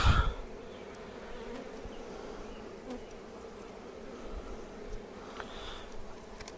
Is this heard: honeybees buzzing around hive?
yes